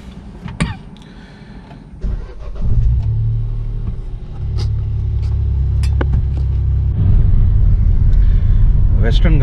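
A car starts up and pulls away on a long road trip from Nagercoil to Chennai, its engine settling into a steady loud rumble under cabin noise, with brief voices and a cough along the way.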